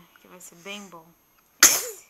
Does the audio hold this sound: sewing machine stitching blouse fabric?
no